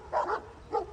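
A dog dressed in a mermaid costume gives two short bursts of whimpering barks, one early and one near the end, fairly close with quiet gaps between.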